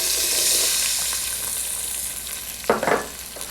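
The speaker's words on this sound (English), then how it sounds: "And saute it up for a minute or two." Diced red pepper sizzles in a hot pan with asafoetida, a loud steady close hiss with a couple of stirring scrapes near the end.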